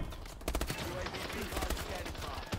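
Rapid bursts of gunfire from the video game Call of Duty, with dense crackling volleys repeating through the moment and a sharp shot near the end, under a player's voice.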